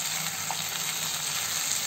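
Chicken pieces coated in salt and turmeric sizzle in a pan for pepper chicken, a steady close frying hiss without talk.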